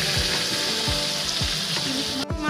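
Pieces of katla fish fry in hot oil in a pan in a home kitchen, cooked for a Jamai Sasthi feast. The sizzle is loud and continuous, with repeated low knocks of the spatula against the pan and a brief scrape near the end.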